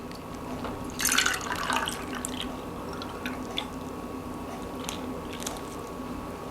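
Milk poured into a mixing bowl for a chocolate peanut butter pudding pie, a short splashy liquid burst early on, then a faint steady trickle with small drips, fairly close and quiet with no talking.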